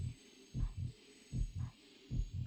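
A slow, deep heartbeat in Zelda Twilight Princess HD, paired thumping double beats repeating about once a second, muffled and low over a faint steady hum.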